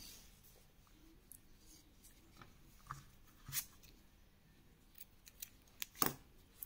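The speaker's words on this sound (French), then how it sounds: "je vais pouvoir découper mon fil" Scissors snip through crochet yarn in a few quiet, crisp cuts, faint handling noise between them and a sharper snip near the end.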